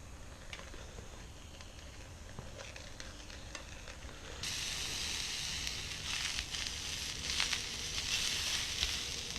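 Sausages frying in a pan on a Trangia camping stove with a meths burner, steady sizzling and hissing growing louder and brighter partway through with crackling spits, close by and without talk.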